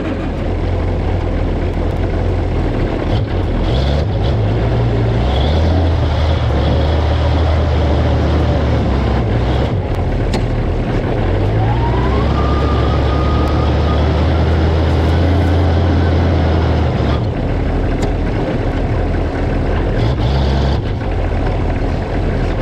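A backhoe rumbles steadily on a test drive, a loud, continuous low engine drone with gear and mechanical noise, its pitch rising and falling as it moves, with no talking.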